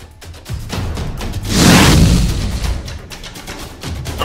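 A cannon in a stop-motion animated scene fires with a heavy boom that swells to a loud peak mid-clip and slowly fades, preceded and followed by rumbling noise, no speech.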